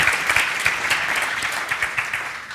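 Applause from a conference audience thanking discussion panel members, a steady crackle of many hands clapping with a few distinct louder claps, moderately loud and without talk.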